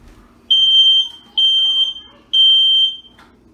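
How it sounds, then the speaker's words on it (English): A smoke alarm sounds three loud, shrill beeps while a brisket is being smoked, each held for about half a second, with short gaps between them in an otherwise quiet room. "there goes our dang smoke alarm"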